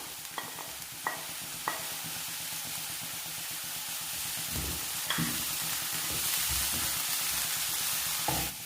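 Grated cabbage and carrot softening in a pan give a quiet, continuous sizzle and hiss, with a few light utensil taps and stirring scrapes near the start and end.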